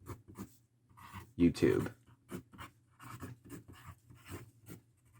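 A pen scratches out a short secret message on a paper envelope card in several close, soft strokes, heard between quiet spoken words.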